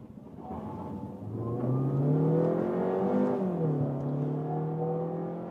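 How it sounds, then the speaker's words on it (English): A VW hybrid car accelerates at full throttle with both electric and combustion drivetrains, its engine note rising in pitch as a loud, steady whining drone, up to about 80 km/h. "Just when I really floor it down like this, then you also have it more audible from the whole engine."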